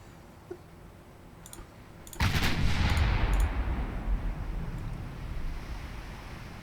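A battleship gun salvo booms in the naval game Ultimate Admiral Dreadnoughts, one sudden loud blast that rolls into a long rumbling decay, preceded by a few faint interface clicks.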